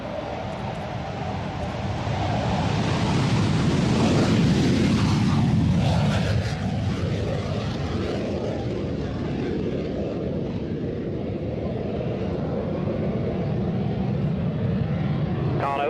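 Engine roar from an aircraft first flown in 1951 swells as it passes low over the runway at an air show, peaks after a few seconds and then fades to a steady distant drone.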